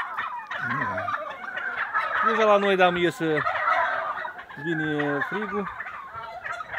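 Turkeys gobble loudly in repeated bursts at a Romanian poultry yard, with chickens calling in the background and someone speaking over the flock.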